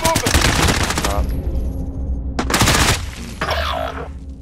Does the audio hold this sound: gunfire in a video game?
yes